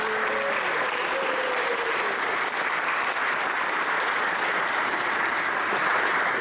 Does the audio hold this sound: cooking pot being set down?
no